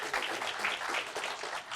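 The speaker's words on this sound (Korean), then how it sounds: "박수 부탁드리겠습니다." Moderate applause from a conference audience welcoming a speaker at a manufacturing technology talk, a steady patter of many hands heard at some distance.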